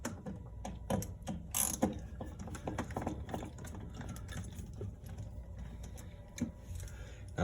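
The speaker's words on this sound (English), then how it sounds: "Now what I'm doing is I'm taking out the screws for the entire area that we plan to work" Screws come out of a light fixture during a socket-less LED install, with faint, close clicking and ratcheting from the driver in irregular bursts against a quiet background.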